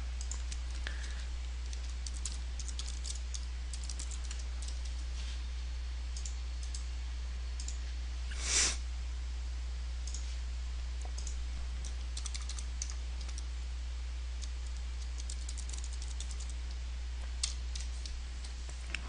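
A computer mouse clicks while images are saved in Photoshop, a string of quiet, scattered clicks over a steady low hum, with one louder click midway and no talk.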